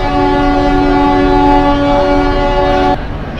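The East Coast Express draws into Shalimar station, its horn sounding a loud, steady, sustained blast over rumbling wheels for about three seconds before cutting off, leaving a quieter rolling rumble.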